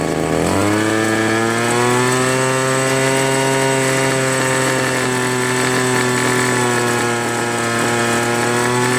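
A Craftsman Bushwacker gas hedge trimmer engine revs up within the first second, then holds a loud, steady, buzzing two-stroke drone close by without any speech.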